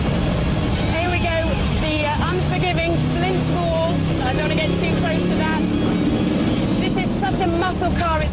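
A powerful muscle car engine roars and revs continuously and loudly at the Goodwood Festival of Speed while someone talks excitedly over it, with the pitch rising and falling as the car accelerates.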